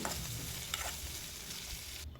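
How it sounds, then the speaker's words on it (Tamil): Green chillies sautéing in a pan for coriander leaf chutney, a dense continuous sizzle with stirring scrapes, close and fairly loud, cutting off abruptly at the end. "நல்லா வதக்கி விட்டுடலாம்"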